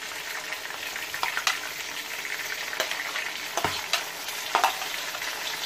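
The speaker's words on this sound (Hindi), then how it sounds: "इसमें हम टमाटर डालेंगे।" Tomatoes frying in a masala base for chicken bhindi, a steady close sizzle throughout with occasional sharp stirring scrapes and clicks against the pan.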